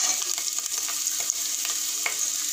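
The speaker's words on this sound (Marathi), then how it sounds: "लसूणही आपण छान असा परतवून घेऊ तेलामध्ये" Garlic sautés in oil with peanuts in a pan for dal khichdi, producing a close, continuous sizzle broken by quick scraping stirs and light taps of a spoon.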